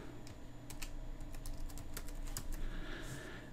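Password keys tapped on a computer keyboard in quick, irregular clicks, close and moderately loud, with a faint steady hum underneath and no talking.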